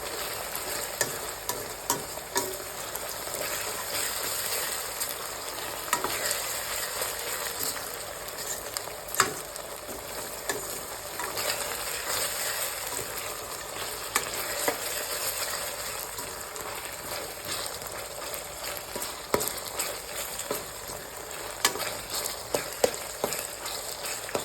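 Ginger paste frying in a pan for a chicken gravy curry, a steady bright hiss of sizzling oil with frequent small stirring clicks, close and continuous with no talk.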